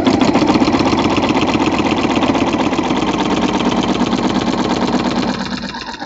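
A sewing machine runs a steady straight stitch across a quilt with a walking foot fitted, its rapid even needle clatter continuous and close, easing off slightly near the end.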